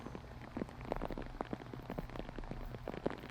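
Rain falling on a soggy disc golf course in nasty weather, steady close patter of drops with many distinct splats and taps over a constant wet hiss.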